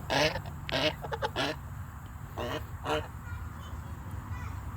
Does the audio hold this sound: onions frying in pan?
no